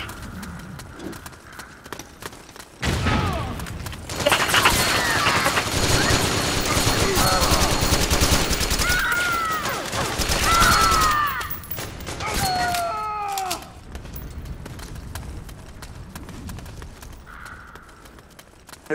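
Rapid gunfire bursts and explosions from the online shooter game Metal Gear Online, with dense clattering volleys and sharp whistling effects, loud and close, with brief moments of talk between bursts.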